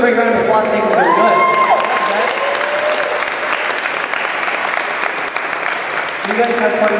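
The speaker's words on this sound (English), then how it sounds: "give a great round of applause" Loud, sustained applause from a crowd at a hypnosis show fills the space, dense clapping with a few cheers and voices rising above it.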